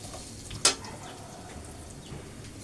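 Crushed garlic fries in oil at the start of a chicken sotanghon soup, giving a faint, steady sizzle broken once by a single sharp clink or crackle.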